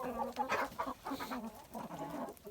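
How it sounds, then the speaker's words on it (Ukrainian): A Barbezieux rooster clucks and calls in short, fairly faint bursts close by in a farmyard. "Дивіться, який півень барбазє."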